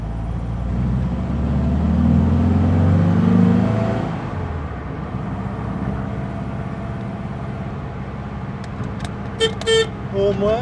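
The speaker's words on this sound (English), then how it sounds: "Horn works." Horn of a 1954 right-hand-drive VW Barndoor bus, a few short toots near the end after the engine rumbles and revs, heard up close.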